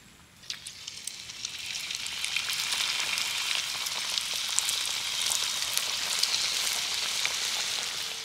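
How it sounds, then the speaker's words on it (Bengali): Palm fruit pitha cakes stuffed with coconut filling fry in hot oil, a dense, continuous sizzle with crackling pops that swells after a quieter start and holds steady; no speech. "বাকি পিঠেগুলো একইভাবে ভেজে নেব।"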